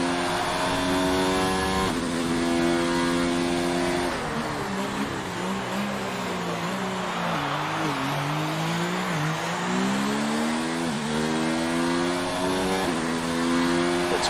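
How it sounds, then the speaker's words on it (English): Formula 1 race car engine in a racing video game at the Canada Grand Prix, a loud continuous high-pitched whine rising and falling through gear shifts and braking into a chicane, close and without talk. "Tom Stevens coming down that back straight now towards that final chicane"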